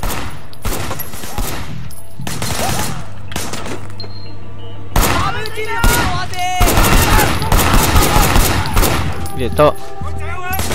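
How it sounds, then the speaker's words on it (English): Rapid bursts of gunfire from a car's passenger window in the video game Sleeping Dogs, loud and close, with repeated volleys of shots and thuds across the clip while a voice speaks briefly. "There was a shooter firing shots from the passenger window."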